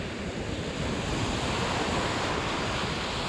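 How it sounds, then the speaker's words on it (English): Sea waves crash continuously onto a beach below a cliff, a dense, loud wash of surf and wind with no voices. "Bit of waveage crashing about."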